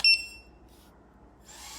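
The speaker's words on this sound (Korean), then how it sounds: "얘를 중간에다 놓으면 삐삐삐삐 거리는 소리가 계속 이게 한 6번 정도 나거든요." An EMAX Tinyhawk 2 FPV drone gives a short, sharp electronic beep at the start, then goes quiet apart from faint tones before a soft hiss returns.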